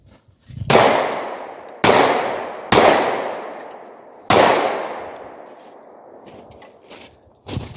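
Sharp pistol shots from a Glock G43 fitted with a Holosun 507K red-dot optic ring out one at a time at uneven intervals, five in all. Each loud crack is followed by a ringing decay, and no one speaks.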